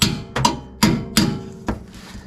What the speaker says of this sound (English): grab a hammer and tap it out the back side